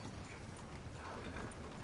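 Horse hooves clip-clop steadily in a Western-themed video game, a soft continuous patter under dense ambient noise across the whole stretch.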